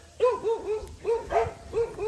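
Dogs barking in a quick series of sharp, loud barks, several in a row with short pauses between bursts, fairly close by.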